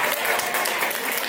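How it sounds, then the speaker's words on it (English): Audience applause fills a district attorney candidate forum in Philadelphia: a dense, steady wash of many hands clapping at once, loud and continuous throughout, with no voices standing out above it. "Hold up, calm down with all the applause."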